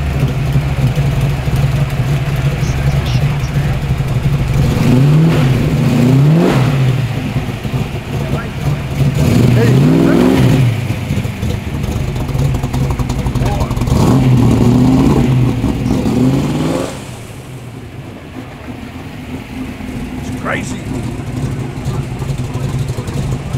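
A Ford XB Falcon fastback drives past at a car meet and coffee run at Accor Stadium, its engine revving loudly in repeated rising surges before receding to a lower rumble, with people talking nearby.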